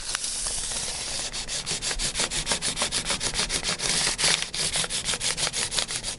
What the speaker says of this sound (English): So you're using your diamond file as a sanding block?